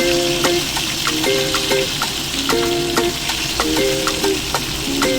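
Honey garlic chicken sizzles and crackles in a pan, a constant frying hiss with periodic scraping and stirring clatter from a utensil, close and fairly loud.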